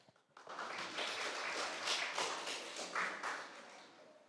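Applause fills the room at a national reading competition for a young reader named Paula Dura: dense, steady clapping from an audience that swells quickly and holds for several seconds before tapering.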